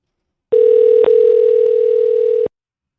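A single steady telephone ringback tone plays while calling a car dealership. It holds loud and even for about two seconds, then cuts off, with no other sound around it.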